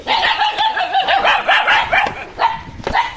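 Dogs bark in a rapid, close, loud series of overlapping yaps and woofs during a scuffle between dogs, with short gaps and no speech.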